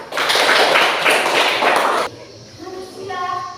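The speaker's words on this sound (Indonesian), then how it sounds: "Tepuk tangan untuk kelompok 2" A classroom group claps for the second presenting group, a roughly two-second burst of dense, fairly loud hand clapping that stops abruptly, followed by a voice speaking.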